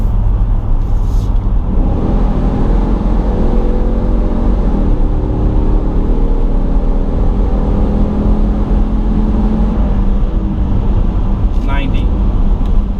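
A 2020 Dodge Durango R/T Blacktop accelerates, heard from inside the cabin. A loud, steady engine drone rises gradually in pitch, with road rumble underneath throughout.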